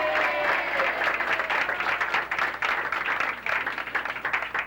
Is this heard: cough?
no